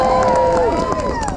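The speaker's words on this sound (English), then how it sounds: "Let's give him a round of applause." Outdoor crowd at a park tree lighting event breaks into cheers and scattered clapping, with voices and shouts rising over a brief, lively burst heard nearby.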